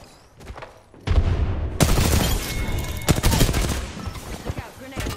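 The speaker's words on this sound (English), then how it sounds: "I'm taking shots." Gunfire in a battle royale shooter game with team fights and shields: loud, dense bursts of rapid shots and boom-like impacts, starting after a quiet opening and continuing almost without pause to the end.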